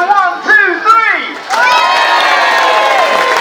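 A Norfolk Show crowd roars and shouts for a freestyle motocross rider, with a few rising whoops at first and then a sustained loud cheer from many voices.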